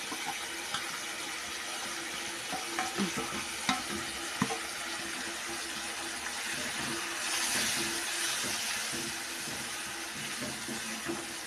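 Sardines being stirred into a sizzling gravy in a pan, a continuous moderate hiss broken by irregular scraping and tapping of a spoon against the pan.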